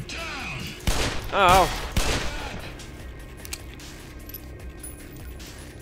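Several bursts of rapid gunfire from the Black Mesa video game crackle close and loud over roughly a second, then die away to a low hum, with one brief exclaimed voice near the start.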